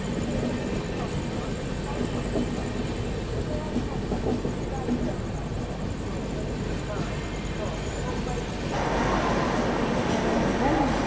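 The 22159 Chennai Express rolling into Kalaburagi Junction railway station, a steady loud rumble and clatter of wheels on track from on board, growing slightly louder near the end, with someone talking over it.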